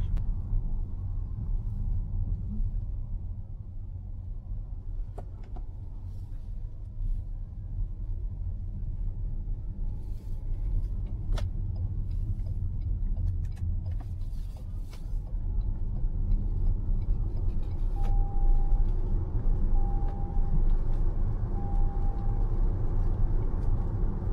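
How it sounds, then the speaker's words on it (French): Interior cabin sound of a restyled Suzuki Across driving in sport mode, a steady low road and engine rumble that swells slightly toward the end, with a few soft chime beeps near the finish and no talking. "Je suis toujours en train de conduire en mode sport."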